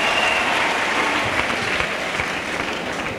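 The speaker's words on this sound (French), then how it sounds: "Acclamons. Let us clap." Steady, dense applause from a church audience during a testimony, a continuous wash of many hands clapping with no voices over it.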